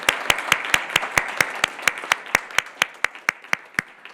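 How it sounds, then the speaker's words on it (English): A small conference audience at an agricultural sessions event claps in a steady, evenly spaced rhythm, each clap sharp and distinct, no talking over it. "So I suggest a big applaud to Gary."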